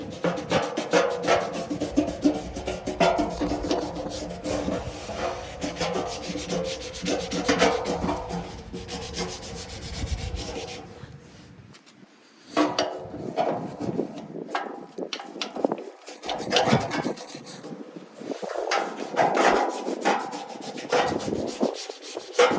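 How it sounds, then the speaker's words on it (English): A brush scrubs the surface of a Dish Network 1000+ satellite dish nearby. A steady, loud rasping rub runs for about ten seconds, breaks off briefly, then resumes in rougher, more irregular strokes. "I'm just scrubbing in random areas, like randomly"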